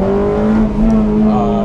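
Honda Civic Type R fitted with Mugen parts, its VTEC engine revving hard with a loud, sustained high-pitched tone that climbs and holds, close to the microphone.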